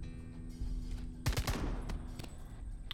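Enemy gunfire in Jagged Alliance: Rage! comes as a short, close burst of several rapid shots in the middle, with a faint, distant pop afterward, all over a quiet background hum.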